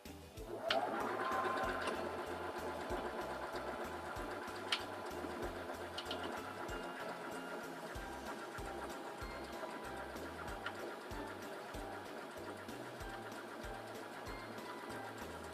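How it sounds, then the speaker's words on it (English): Singer Simple 3337 sewing machine sewing a buttonhole, with a steady, close rhythmic whirring and pulsing stitch pattern that runs continuously, with no voices. "And now we're ready to sew out our buttonhole."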